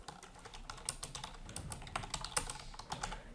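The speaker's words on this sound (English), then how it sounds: "Don't copy and paste the title, just type the title here again" Quiet, rapid clicking of keys on a computer keyboard while typing text, with irregular taps close by and no voices.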